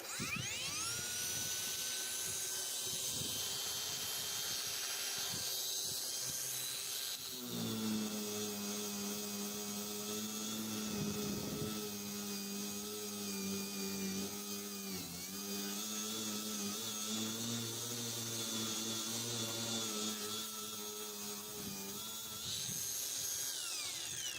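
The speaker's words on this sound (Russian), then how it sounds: "сейчас новая болгарка идет у нас в работу. Опять же, нормальная шлифовка" A new PATUOPRO angle grinder runs steadily at high speed, with a loud, sustained whine. When it bites into the workpiece, a lower, rougher grinding tone joins in and holds for most of the stretch. No voices.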